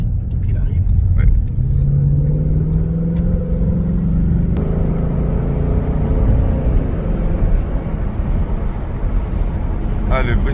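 A Ford Mustang with a 5.0L V8 engine rumbles loudly and climbs in pitch as it accelerates, with a deep, continuous drone heard from inside the car and voices talking over it.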